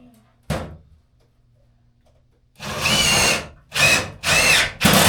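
A power drill drives screws into aluminum camper framework: one short thunk, then several close, loud whirring bursts in quick succession, starting and stopping.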